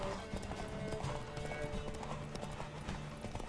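Galloping horse hooves in The Witcher 3 drum in a steady, continuous clip-clop rhythm throughout, close and fairly loud over a faint game backdrop with no talking.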